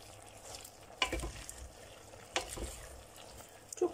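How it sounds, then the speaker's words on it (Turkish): Softened, watery cabbage cooked down with mince, paste and oil being stirred in a pan for kapuska, a few scraping stir strokes with a quiet sizzle underneath, close and fairly soft. "Şöyle güzelce karıştırmamız gerekiyor bu aşamada."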